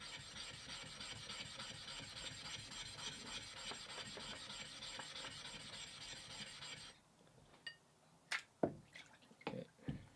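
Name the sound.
rubbing a Nagura stone on dirty areas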